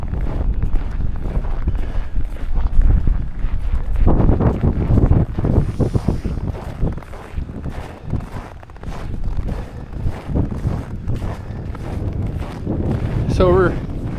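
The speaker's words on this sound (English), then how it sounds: "That wind is just sheer." Strong, cold winter wind buffets the microphone outdoors at a Winterfest farmers market in Castor, a steady low roar that swells and gusts throughout, with a voice speaking over it.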